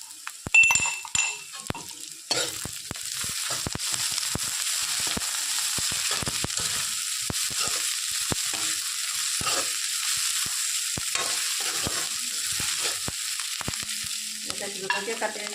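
Ginger garlic paste frying in a pan with a continuous crackling sizzle, punctuated by sharp scraping and clinking strokes of a spatula stirring against the metal, louder clatter at the start.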